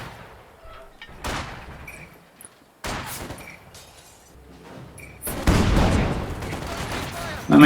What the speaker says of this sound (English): Oh, they're under fire.